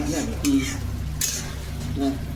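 Chatu (mushroom) kasa being stir-fried in a pan, with steady scraping stirs and a low sizzle running throughout, and a faint voice briefly in the background.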